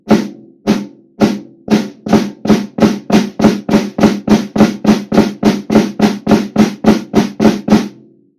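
Snare drum flams struck in a steady, rapid stream, each grace note tucked close against the main stroke, about twenty crisp loud hits ringing alone with no talk.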